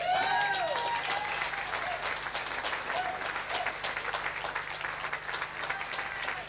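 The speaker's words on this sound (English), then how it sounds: "please give a big round of applause to John Barrett." Audience at a 1988 amateur boxing night in Mayo gives a long, steady round of applause for a fighter from the Ardery Boxing Club, dense hall clapping filling the whole stretch with a faint voice near the start.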